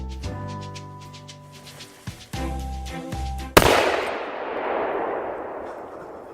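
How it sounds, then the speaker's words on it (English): Solvent similar to paint thinner detonated on a table, a single loud close blast that follows a stretch of ringing tonal sound, then a long roaring burn that slowly fades. "now we have a type of a solvent, which is like paint thinner. And we're gonna see what happens when we blow it up."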